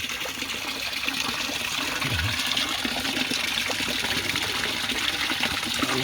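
A Chinese-made Sonic water pump moving murky pond water for a koi pond, giving a steady continuous splashing and trickling wash at moderate level, alone without speech.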